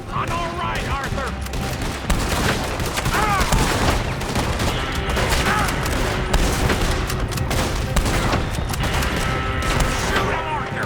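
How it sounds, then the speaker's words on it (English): Gunfire in the Red Dead Redemption 2 video game: a dense, continuous barrage of overlapping shots and booms filling the whole stretch, loud and close, with shouted talk mixed in beneath. "Shoot him, Arthur, before they blow us to high hell."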